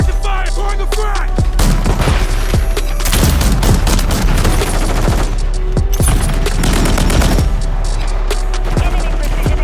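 Dense, loud automatic gunfire and booming blasts in a shooter video game, including a frag grenade, rolling on continuously with rapid overlapping shots and explosions.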